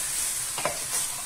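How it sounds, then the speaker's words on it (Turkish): Meat sears dry in a pot for kavurma, giving a steady close sizzle and hiss with a brief stirring scrape in the middle. "Eti bu şekilde mühürlemiş oluyoruz."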